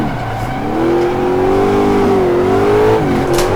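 A high-revving Ultima GTR engine in a racing video game, holding a steady loud note that climbs and dips slightly with throttle, with no voices over it.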